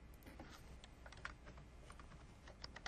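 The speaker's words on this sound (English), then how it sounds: "excuse my typing" Typing on a computer keyboard while working in Outlook Web Access email, a steady patter of quiet, close key clicks with a few sharper taps.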